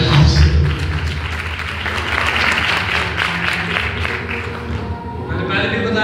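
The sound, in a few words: audience clapping in church meeting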